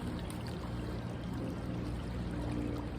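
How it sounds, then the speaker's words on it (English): Strong current of the Catawba River flowing steadily, a dense close rushing wash that stays even throughout with no talk. "So that current's pretty strong."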